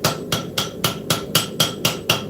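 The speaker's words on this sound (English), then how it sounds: "I am just going to use my little auto body hammer" A small auto body hammer strikes a blade tip on a step during forging, ringing out in nine evenly spaced, loud metallic blows close by.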